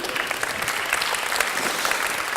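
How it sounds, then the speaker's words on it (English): An audience at an urban design talk claps steadily in a brisk, even round of applause, close and fairly loud throughout with no break. "Applause for the Grey City."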